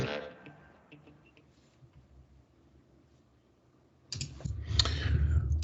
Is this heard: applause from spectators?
no